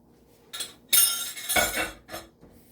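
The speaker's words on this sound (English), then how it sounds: "just shake it up in a nice honey bottle" A honey bottle of salad dressing shaken by hand in a few quick bursts, giving close, rattling sloshes with faint clinks and short pauses between shakes.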